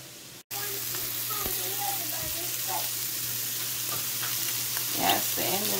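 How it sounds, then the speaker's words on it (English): Shrimp sautéing in a pan, a close continuous sizzle with occasional stirring clicks after a brief cut at the start, and a short voice near the end. "Sauteed shrimp."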